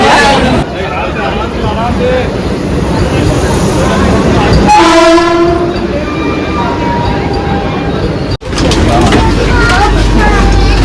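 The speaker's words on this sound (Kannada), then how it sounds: "ಸೊ ಇದು ವಂದೇ ಭಾರತ್ ಟ್ರೈನ್ ಬರ್ಕೊಂಡು ಐಟ್ ಹೋಗಿಲ್ಲ." A Vande Bharat train pulls into a railway station, its horn sounding mid-clip as a steady rumble of rolling stock fills the platform, with people talking nearby throughout.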